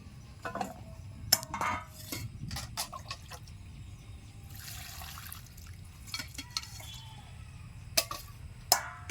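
Cut pieces of raw jackfruit being washed in a pot of water for a chicken curry, with splashing, sloshing water and sharp clinks of a metal vessel and utensils at close range.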